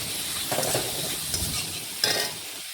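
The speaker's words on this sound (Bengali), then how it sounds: "নাড়াচাড়া করে হলুদ আর লবণ মিশিয়ে নিচ্ছি আলুর" Potatoes stirred in a pan with turmeric and salt, a soft continuous sizzle broken by a few scraping strokes of a spoon, with one sharper clatter near the end and no talking.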